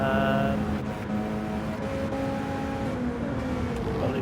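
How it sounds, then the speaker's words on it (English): A Mazda race car engine in a racing game, a steady, loud droning tone held throughout with slight pitch shifts as it accelerates down a straight, no talking. "that Mazda's got some grunt, just closing in on Welly Bob and the slipstream as well"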